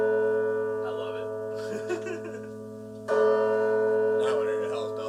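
Deep church bell tolls, two long ringing strikes with sustained humming overtones, while people talk and laugh over them.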